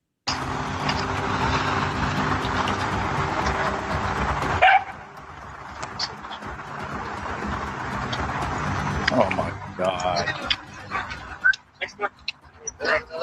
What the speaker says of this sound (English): He came out to walk the dog.